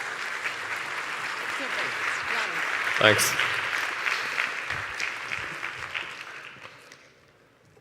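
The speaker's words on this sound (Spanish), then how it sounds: "Un aplauso, por favor, para Mark," A conference audience at a large public congress applauds a speaker named Mark, steady clapping that swells and then fades to quiet, with a brief spoken thanks near the middle.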